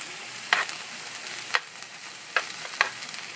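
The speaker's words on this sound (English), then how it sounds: "then I'll let it simmer just a little bit. then I'll go ahead and add the celery." Ground turkey and celery simmer in a pan with a soft, continuous sizzle. A few sharp spoon clinks or stirring taps sound at irregular intervals close by, and no voice is heard.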